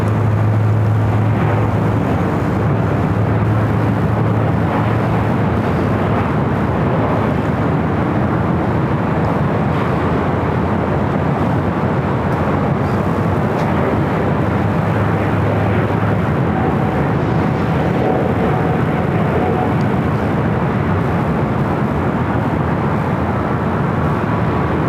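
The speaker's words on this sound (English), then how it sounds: "Next arrival is Southwest Airlines Flight 1770 coming in from Oakland at a" A Southwest Airlines Boeing 737-700, inbound from Oakland, arrives at LAX with a loud, continuous jet roar that holds steady and close for the whole stretch, with no voices over it.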